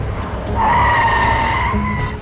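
A car turns around sharply with a loud, sustained tire squeal lasting about a second and a half, set against steady engine noise, with no talking.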